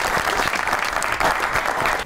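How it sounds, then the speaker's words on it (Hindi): A studio audience at a satirical comedy talk show claps loudly and continuously, a dense, close wash of applause filling the whole moment. "ताली होनी चाहिए हज़रत साहब के लिए।"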